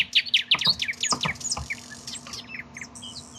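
A green bird singing in a digital story, with a quick series of bright chirps and tweets in bursts, loud and close, thinning out toward the end over a faint steady hum.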